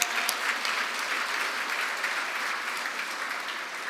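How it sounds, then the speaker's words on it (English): A city event audience gives a sustained round of applause for a chef and her team after lunch, an even wash of many hands clapping at moderate distance with no talk. "Can we give them an incredible round of applause?"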